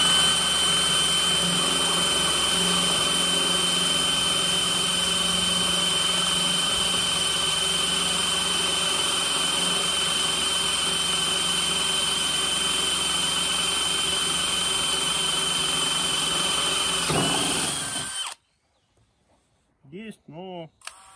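A Dewalt DCD999 cordless drill running at second speed, 1300 rpm, drilling without lubricant: a loud continuous whine for about eighteen seconds that cuts off abruptly, followed by near silence with a few brief knocks.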